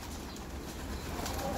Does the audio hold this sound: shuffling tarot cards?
no